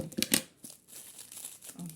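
Paper wrapping being pulled off a variegated Burle Marx plant, with sharp crinkling and tearing bursts up close, louder at first, then softer rustling.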